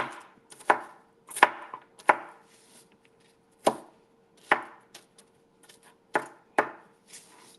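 Onions are chopped with a knife on a cutting board in a home kitchen, about a dozen sharp, irregular thuds close by, with quiet gaps between them and no talking.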